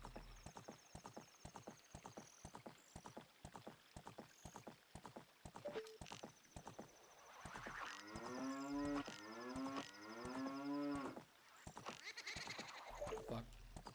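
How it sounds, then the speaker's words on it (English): Cow moos stand in for a bow-and-arrow effect in the Ocarina of Time randomizer, with several drawn-out lowing calls sounding over a steady clip-clop of horse hooves throughout. "I like the cow bow and arrow sound"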